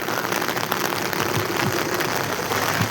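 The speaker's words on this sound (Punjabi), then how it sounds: "ਤੇ ਬਾਕੀ ਮੀਂਹ ਬਹੁਤ ਪੈ ਰਿਹਾ" Heavy rain falls steadily on a car park outside a grocery store in Italy, a dense, loud hiss of drops that fills the whole stretch with no break and no voices.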